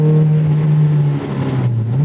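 A 2001 Toyota MR2 Spyder with a swapped 2ZZ engine revs loudly and steadily near the listener, then dips and blips back up during a heel-toe downshift.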